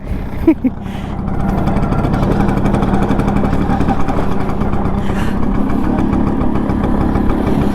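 A geared motorbike engine runs at a steady, loud, close drone during a road ride, starting after a brief rustle, with a continuous low rumble throughout.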